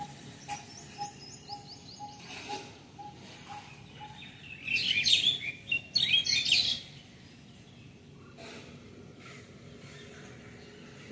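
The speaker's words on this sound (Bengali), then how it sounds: "বেশি গাছপালা থাকলে একটা পাখিদের যে কিচির মিচির" Birds chirp and tweet among trees, bursts of bright calls rising around the middle with quieter chirps before and after, over low outdoor background hum.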